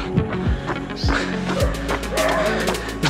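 Several dogs bark and yip nearby in Sri Lanka, with repeated sharp barks in an uneven rhythm among outdoor ambience and a voice.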